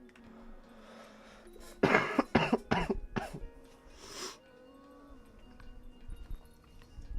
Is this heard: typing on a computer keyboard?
no